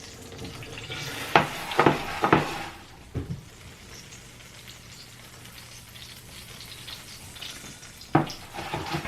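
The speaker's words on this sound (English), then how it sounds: "as soon as our butter stops foaming, which is very soon" Butter foams and sizzles in a pan while sweetbreads fry, a steady, soft crackling hiss punctuated by a few louder pops and spatters near the start and end.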